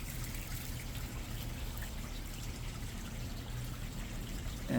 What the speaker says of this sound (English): just let it drip right down into the pot